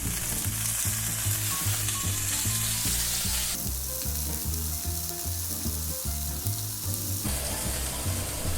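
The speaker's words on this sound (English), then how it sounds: "we're gonna grill this for 5 minutes on each side" Tempeh sizzles steadily on a grill, a dense, continuous crackle with a rhythmic pulsing undertone running throughout, close and fairly loud with no one talking.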